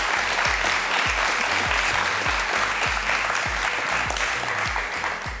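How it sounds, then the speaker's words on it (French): An audience at a hypnotist's stage show claps together in a dense, steady round of applause that holds throughout without voices on top. "On peut l'applaudir encore une fois."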